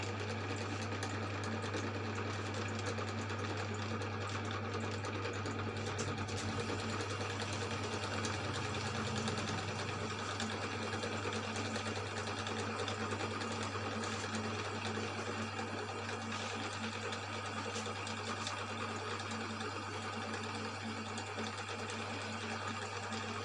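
A cylinder boring machine smooths a motorcycle cylinder block in a workshop, giving a continuous, even mechanical whir and hum with a steady low drone, fairly faint and unbroken throughout with no talking.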